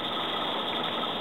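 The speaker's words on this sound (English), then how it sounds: "That gets the little air pump going." A small electric air pump run from a deep-cycle marine battery through an inverter, giving a steady, loud mechanical hum with a high whine and no break.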